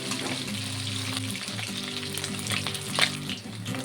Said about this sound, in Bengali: মোরলা মাছটাকে ভেজে নেব।